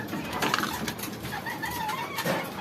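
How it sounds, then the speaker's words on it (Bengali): Pigeons in a loft coo softly and repeatedly over a steady background murmur, with no one talking. "ওই কবুতরগুলো আপনাদেরকে দেখাই।"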